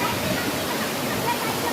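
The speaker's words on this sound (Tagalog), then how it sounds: "Ng Tong Chai Waterfalls." Ng Tung Chai waterfall on a Hong Kong hiking trail, a dense steady rush of falling water that stays loud and even throughout.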